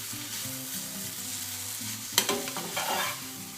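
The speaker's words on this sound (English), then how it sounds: "Just chuck your noodles in, give it a stir around." Vegetarian spicy noodles being stir-fried in a pan, a steady sizzle with scraping and tossing from a utensil growing louder near the end; music plays underneath.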